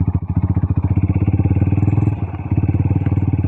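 An adventure-bike motorcycle rumbles close by with a steady, pulsing engine chug that dips briefly and picks up again, loud and near throughout.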